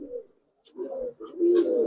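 A young Giribaz pigeon coos in a few short, soft throaty bursts, close by, with brief pauses between them and no talk.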